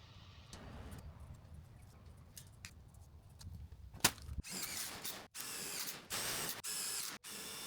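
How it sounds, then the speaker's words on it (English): Self-tapping 1/4 inch screws driven into trailer paneling with a power driver, several short loud bursts in quick succession after a quieter stretch, each one stopping sharply. "To install the paneling, I used 1/4 inch self-tapping screws and spaced them about 5 inches apart."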